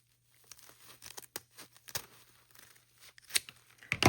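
Ribbon is cut and handled while shaping a giant Christmas bow: quiet crinkling and rustling with several short snips, fairly close, scattered irregularly and no talking.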